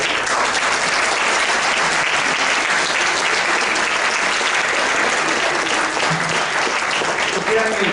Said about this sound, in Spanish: le diéramos un fuerte aplauso a don Eduardo López Betancourt